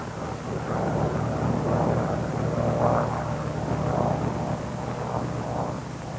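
A Bell P-39 fighter plane comes in to land, its engine a steady, full, continuous roar with a low rumble and wind-like hiss throughout, without talk.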